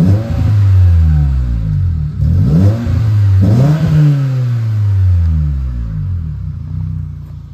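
Renaultsport Twingo RS133 facelift with a cat-back exhaust, warmed up and revved several times from idle; loud, close rising and falling engine tones with a deep burble between blips, no talking.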